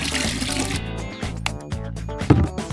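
Water runs and splashes into a dog's drinking fountain, a close, steady pouring sound over background music.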